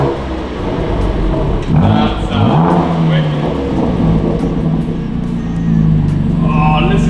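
A BMW M2 Competition engine with a Remus aftermarket exhaust idles with a deep, throaty rumble and a brief blip of revs; someone speaks a word over it.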